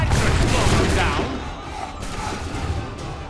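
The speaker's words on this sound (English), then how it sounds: "Luckily we have the cannon." Cannon fire in the video game Assassin's Creed III: loud, dense booming blasts and rumbling battle noise fill the scene, fading slightly midway, with voices talking over the din.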